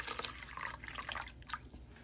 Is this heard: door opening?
no